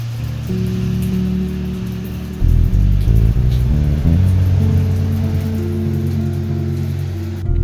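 Steady rain falls on a hiker's tent during a multi-day wet spell, a loud continuous hiss with a low rumbling undertone and no voices.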